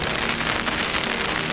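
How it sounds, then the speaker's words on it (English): Heavy rain pounds an umbrella during a June fishing session, a dense, steady patter of countless drops drumming close overhead without pause. "As you can hear on the umbrella, it's absolutely pouring down with rain."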